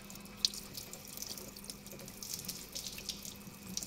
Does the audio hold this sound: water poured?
yes